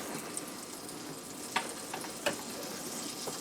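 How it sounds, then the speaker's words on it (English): Butter sizzles in a hot pan for pancakes with a soft, steady crackle, punctuated by a few faint ticks and pops, quiet and close with no talking. "Now I'm just gonna add a little butter here, extra"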